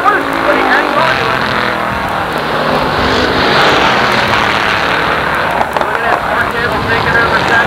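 Street stock race cars roar around Jennerstown Speedway, a big Ford Torino among them, a loud continuous engine din with a track announcer talking over it.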